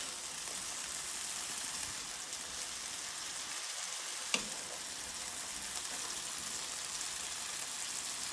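Hashbrown potatoes frying on a stove, an even, moderately quiet hiss of sizzling oil that runs steadily throughout with one small click.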